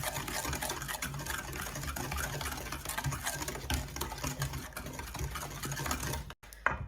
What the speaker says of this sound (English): I'm just going to mix the 3 eggs with the cup of sugar.